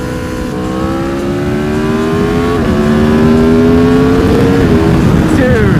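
A fast motorcycle accelerates hard on a race track, its loud, close engine note climbing steadily in pitch with a brief dip at a gear change, and a voice speaks briefly over it.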